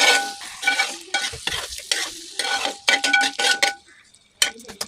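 Beef roast being stirred in a frying pan with coriander leaves, giving repeated bursts of utensil scraping and clinking against the pan over a steady sizzle, close and fairly loud, with short pauses between strokes.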